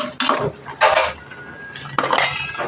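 A utensil stirs a pot of curry leaf kuzhambu, with three distinct bursts of metallic scraping and clinking against the pot separated by quiet pauses.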